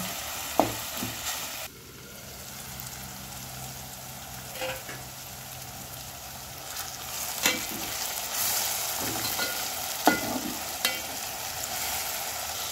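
Tomato and onion sautéing for Konkani-style chicken, a continuous close sizzle and crackle with occasional spoon scrapes and taps on the pan, no voices.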